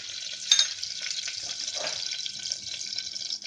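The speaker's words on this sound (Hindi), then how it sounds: "अब गैस पर कुकर रखेंगे, उसमें डाल देंगे 2 टेबलस्पून देसी घी" Desi ghee heating in a pressure cooker on a gas stove gives a steady bright sizzling hiss throughout, with a brief clink near the start.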